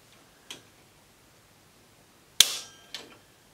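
Light taps on a Browning B525 over-and-under shotgun, made to mimic recoil and shift the inertia block to the second barrel: three close, sharp mechanical clicks in quiet, the middle one loudest.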